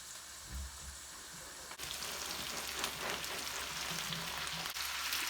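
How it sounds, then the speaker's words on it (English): Cabbage is added to softened onion in a hot pan, and a steady close sizzle and crackle swells and carries on without talk. "now I'm going to add my cabbage"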